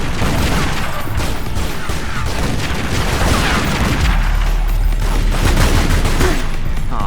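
Pistol fire in Tomb Raider: Legend, with repeated sharp shots and booming impacts crowding a dense, loud battle din with no talk.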